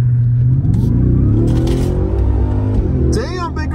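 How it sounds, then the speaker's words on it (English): A 2023 Ford Raptor R truck engine with a newly installed S&B intake revs up, a loud, steady low rumble rising through a couple of throttle blips, with a voice talking over it. "give it a couple revs to make sure everything's on there nice and snug"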